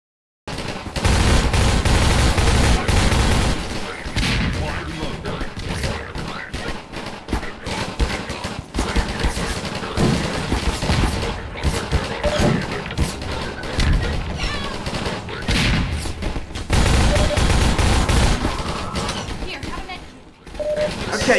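Rapid gunfire bursts and heavy blasts from a Half-Life 2 firefight with grenade explosions, dense and loud for most of the stretch, with a voice talking over the combat.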